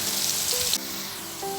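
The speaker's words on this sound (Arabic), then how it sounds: "وهبدا اضيف فيها البصل بقى عشان احمره" Onions fry in oil in a pot with a loud, steady sizzle that softens slightly partway through, continuing without pause.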